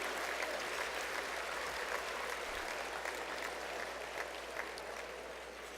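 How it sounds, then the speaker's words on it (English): A crowd at a university awards ceremony claps for past award winners, a steady, even patter of many hands that sounds somewhat distant and quiet and continues without pause. "How about a round of applause for the past winners that we have for this group?"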